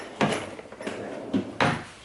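A workshop drawer holding drill bits, pencils, pens and rulers slides and bumps shut in a few quick, sharp knocks and scrapes over a quiet room.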